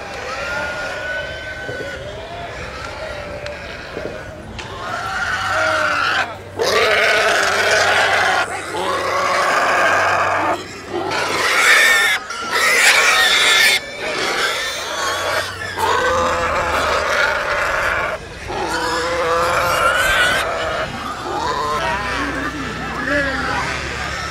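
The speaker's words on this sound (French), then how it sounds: "Malgré le cri des cochons, sacrifiés sur l'autel de la tradition" Loud, harsh squealing and grunting of pigs being slaughtered for a traditional festival, in repeated bursts, close and raw, with a low rumble underneath.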